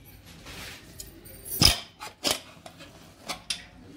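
A pressure cooker, cooled after three whistles of chicken rice, has its lid worked loose and lifted: a few sharp metallic clacks and scrapes, close, over a quiet background.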